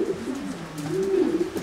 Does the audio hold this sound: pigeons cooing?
yes